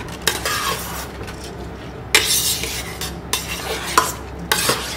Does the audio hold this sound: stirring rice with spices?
yes